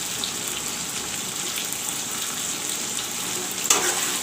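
Tomatoes and a ginger, garlic, mustard and cumin masala paste fry for a rohu fish curry, giving a steady, close sizzle and crackle that runs throughout, with one sharper spatter or stir near the end.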